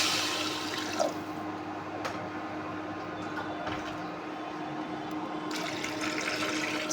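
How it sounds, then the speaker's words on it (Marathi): Water is poured into a cooking pan over ground chilli for a quick dish of dried chickpea leaves, a steady gushing pour with a small clink at the start, moderately close, no talking. "त्यामध्ये आपण पाणी घालून घेणार आहोत."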